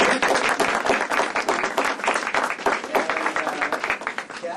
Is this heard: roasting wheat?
no